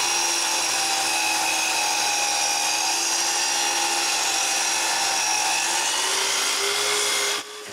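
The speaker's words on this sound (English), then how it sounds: "After making sure both posts are at the same place, I cut them." A power tool cuts through old wooden bedposts that have been stripped of varnish with sandpaper, giving a steady, loud, high whine that runs for about seven seconds before stopping abruptly.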